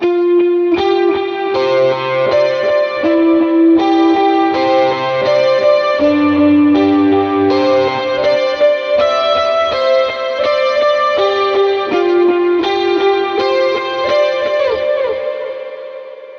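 Electric guitar lead run through delay, tube screamer overdrive, big reverb and chorus, playing a loud sustained melodic line with shimmering echoing notes and no talking.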